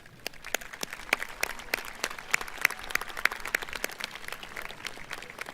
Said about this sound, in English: join me in a round of applause for those Sikeston R6 folks